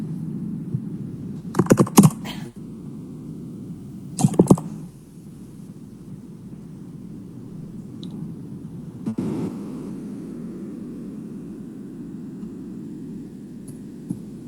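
Typing Python code on a computer keyboard: a few short clusters of close, crisp keystrokes separated by long stretches of low room hum and faint background noise, with no talk.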